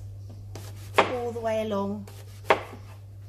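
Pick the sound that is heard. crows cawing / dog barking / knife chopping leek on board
knife chopping leek on board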